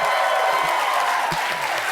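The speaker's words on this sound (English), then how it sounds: "Did you hear how long that audience was cheering?" Studio audience applauding and cheering for the First Lady at a late-night talk show taping, a steady dense wash of clapping with scattered whoops, loud and continuous throughout.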